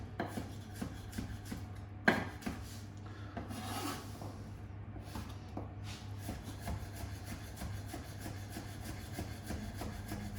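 A knife finely slicing spring onion on a chopping board, a close, steady series of quick rasping cuts with one sharper knock near the start, over a low constant hum.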